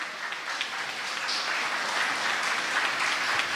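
An audience applauds at an inter-college Tulu comedy skit competition during an honouring ceremony, steady crowd clapping at moderate distance that swells a little and holds throughout.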